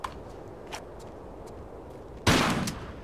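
A single loud shotgun blast from the Tomb Raider game, set in the Valley of the Kings, cracks sharply near the end after quieter game ambience and faint clicks.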